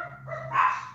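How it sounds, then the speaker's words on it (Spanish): A small dog yips and barks indoors, a couple of short close calls over a low steady hum, with no speech. "perdón por los perros"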